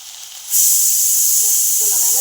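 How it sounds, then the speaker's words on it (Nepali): Cumin, ginger and garlic dropped into a hot pan in a home kitchen, setting off a sudden, steady sizzling hiss that keeps going, with faint background sounds underneath. "जिरा र अदुवा लसुन हाल्दै"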